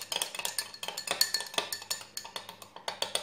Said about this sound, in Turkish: Bunu karıştırın sonra.